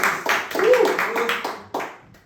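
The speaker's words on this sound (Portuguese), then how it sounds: "queria ter uma salva de palmas" A few people clap in scattered bursts during a church-themed episode, with uneven strikes and a voice speaking over the claps.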